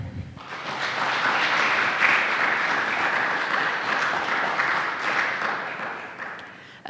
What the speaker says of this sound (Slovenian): Prosim publika za en aplavz